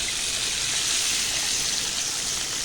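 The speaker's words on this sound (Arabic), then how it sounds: "يا جماعة هنزل عليها بالمية دلوقتي، كوبايتين من المية" Two large glasses of water poured into a cooking pot over spices, a steady close splashing gush with bright trickling that runs unbroken for a couple of seconds.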